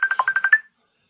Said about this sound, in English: Couldn't get through a whole session without the phone ringing